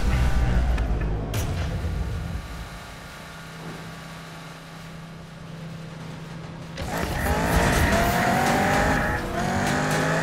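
Race cars in Need for Speed 2015 roar hard at full throttle with tire squeal, ease to a steadier lower drone, then surge loud again with high-revving engine whine and skidding.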